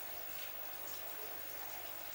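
Steady rain falls as a continuous faint hiss of drops, with no voices.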